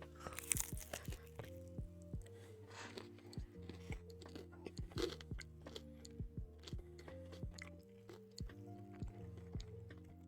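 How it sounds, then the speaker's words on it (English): Crunching while eating, heard close and faint as a run of small crisp bites and chews, spread irregularly over a steady electronic drone with no one talking. "Can you hear the crunch?"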